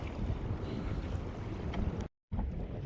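Wind sweeps steadily over the open sea around a fishing boat where a net is being hauled in, a continuous close, rough buffeting rush with a brief dropout near the end.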